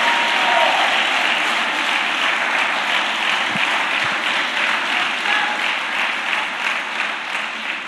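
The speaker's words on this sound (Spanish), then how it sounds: "Dale un aplauso al Señor." Congregation in a church applauding for the Lord, a steady sustained wash of many hands clapping together, loud and continuous throughout with faint voices underneath.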